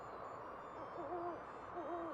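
Owls hooting at night in Tonalá, Jalisco, two soft wavering calls over a background of wind-like noise, faint and somewhat distant.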